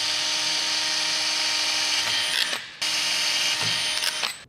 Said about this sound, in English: I'm gonna drill out these two points.